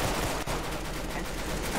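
An M79 grenade launcher fires in the Roblox-style shooter Arsenal, a dense, loud burst of gunfire-like noise with one sharp crack near the start, continuing without a pause for under two seconds.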